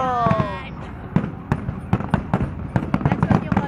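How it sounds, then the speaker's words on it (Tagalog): Fireworks at a pyromusical show in a mall setting burst in a rapid series of sharp, loud pops and cracks, with people exclaiming and talking near the start. "That's what you call fireworks."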